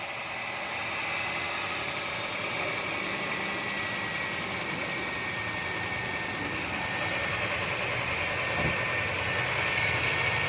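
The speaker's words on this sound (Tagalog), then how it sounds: "Mazda Lantis Type-R V6 KFZE engine." A Mazda Lantis Type-R with a 2.0-litre V6 KFZE six-cylinder engine in a cast aluminium block idles steadily, a smooth, even hum holding at a constant level throughout with no voices.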